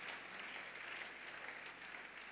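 A church congregation claps and cheers in praise during a French-language service, steady sustained applause filling the room at moderate distance with no voices over it.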